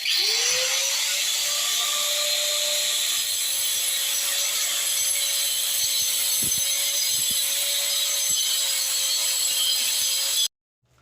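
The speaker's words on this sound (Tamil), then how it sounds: "இப்போ வந்து அடுத்தது கட்டிங் போட்டுட்டு கட் பண்ணலாம் அப்படின்னு பார்ப்போம்" A power cutter grinds grooves into a house wall for electrical wiring, making a loud, continuous high-pitched whine with a steady tone that holds for about ten seconds and then stops abruptly.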